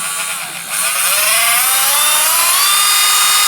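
A cordless Dremel 8240 rotary tool whines loud and close, its high motor pitch climbing smoothly as the speed is turned up, then holding a steady shrill tone.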